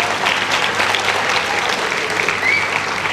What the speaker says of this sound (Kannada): ನೀವು ಎಷ್ಟು ಖುಷಿಯಿಂದ ಈಗ ಚಪ್ಪಾಳೆ ಹೊಡಿತಿದ್ದೀರಲ್ಲ